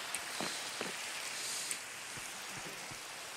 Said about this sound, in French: C'est très bon pour la pêche quand il pleut.